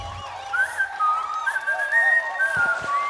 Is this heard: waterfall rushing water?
no